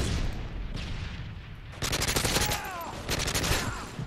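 Rapid automatic gunfire bursts from the video game Call of Duty MW3, dense and loud in an online multiplayer match, with a pause between two clusters of shots.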